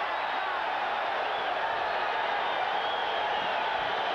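A boxing arena crowd roars in a steady, dense wall of cheering and shouting near the close of the first round of the Trinidad vs Blocker bout, loud and sustained with no break.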